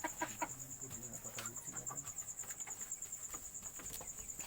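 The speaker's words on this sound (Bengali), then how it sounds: "এদিকে মেলা জাতের মুরগি আছে।" Several breeds of chickens clucking in a yard, repeated soft clucks and a few louder calls nearby, with a steady high insect or cricket drone behind and faint speech.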